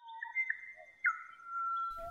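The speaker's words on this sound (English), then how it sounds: "studying, recording and transcribing pied butcherbird songs for 12 years" Melodic whistled song of a pied butcherbird, clear sustained notes with gliding pitch changes over about two seconds, heard alone and fairly close.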